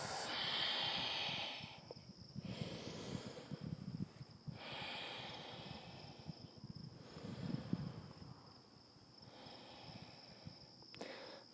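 Slow, deep breaths from someone doing a yoga flow in Johnson, Vermont, come close to the microphone in long, even inhale and exhale cycles. Faint insect-like hiss sits in the background.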